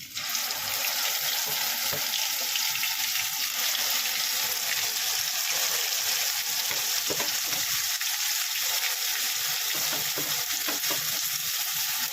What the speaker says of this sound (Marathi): आपण आता मोहरी, कढीपत्ता आणि लसूण फोडणीला देऊया